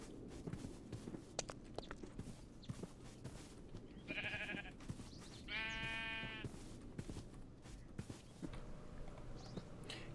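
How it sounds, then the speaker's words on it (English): Sheep bleat twice in the Minecraft video game, a short call and then a longer drawn-out one, over quiet footsteps and faint game ambience. "started to corral all the sheep until this creeper nearly blew up my sheep"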